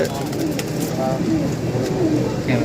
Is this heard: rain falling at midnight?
no